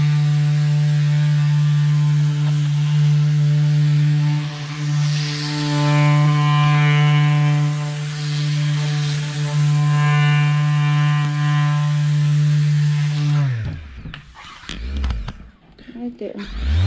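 An electric sander drones loudly with a steady buzzing hum while sanding kitchen cabinets, running close for most of the clip before switching off into a clatter, with someone talking over it.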